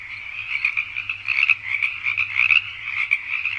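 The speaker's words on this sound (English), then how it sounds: "Frogs and crickets." Frogs croak in a steady, dense chorus at night in a swamp, a continuous layered rasping texture with crickets trilling underneath, no voices present.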